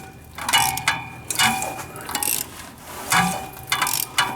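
A seized engine in a 1978 Chevy truck is turned over by hand with a ratchet, giving close metallic clicks and grinding mechanical turns in several uneven bursts, with no talk over them.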